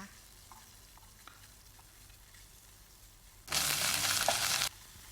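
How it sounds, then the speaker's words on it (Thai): Minced pork stir-fried in a pan with fragrant aromatics for stir-fried stink beans with shrimp paste: a low background hiss, then a loud burst of sizzling from the pan for about a second before it quiets again. "ใส่หมูสับลงไปเลยค่ะ แล้วก็ผัดให้หมูสับพอสุกนะคะ"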